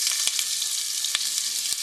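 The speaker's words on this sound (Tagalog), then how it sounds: "saka natin igisa yung ating papaya mga kamig" Papaya sautéing in a hot pan gives off a loud, steady sizzle, broken by a few sharp crackles and pops, with no voices.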